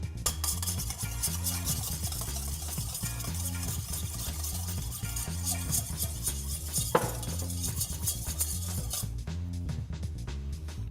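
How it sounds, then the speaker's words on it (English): Olive oil is whisked into balsamic vinegar for a dressing, with a rapid, steady rhythmic scraping and clinking of the whisk against the bowl, close and continuous. "And then we're going to whisk in maybe 2 to 3 tablespoons of olive oil."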